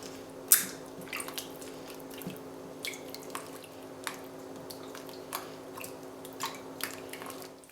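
Homemade cultured butter is kneaded by hand in water, giving soft wet squelches and drips in an irregular rhythm, several sharper splashy squishes standing out close up over a faint steady hum.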